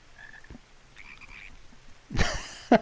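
Giant frogs croak in Final Fantasy XIV, a couple of faint chirping calls followed by a louder, close, raspy croak and a sharp final burst.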